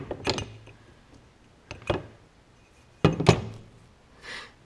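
A plastic fishing-bait mold being pried open by hand, giving a few separate knocks, creaks and clunks close by, with short pauses between them.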